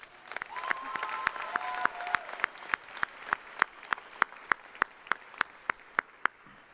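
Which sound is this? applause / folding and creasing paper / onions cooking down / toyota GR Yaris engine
applause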